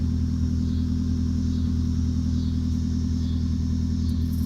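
A 1974 BMW 2002 automatic idles with a low, steady exhaust rumble and a faint rasp from a small rust hole in the exhaust, continuous and close, with no voices.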